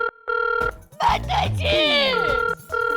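A telephone rings in repeated double bursts, loud and close, with a person talking between and over the rings.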